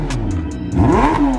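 A 1972 Reliant Bond Bug three-wheeler fitted with a Suzuki Hayabusa motorcycle engine revs hard. Its pitch climbs sharply in a short, loud, close burst with no talking.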